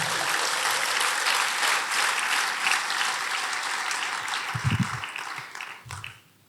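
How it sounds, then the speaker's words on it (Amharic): A church congregation claps for the Lord in a sustained wave of applause during a sermon, dense and steady before it thins out near the end, with a few low bumps. "እስኪ ለጌታ አጨብጭቡ፣ ክብር ስጡ እስኪ"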